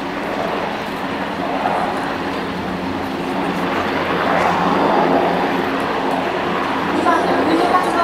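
A steady helicopter engine roars overhead during a Tokyo Fire Department rescue demonstration, swelling slightly louder midway, with a rushing rotor wash and no clear pauses.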